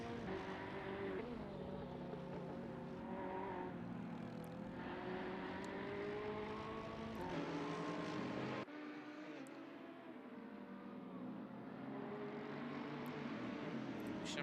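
GT3 race cars, Ferraris and AMGs, in a racing game at Barcelona, engines wailing loudly as they rev up and down through gear changes, then the sound cuts to another car's pitch climbing and dropping, with no talking.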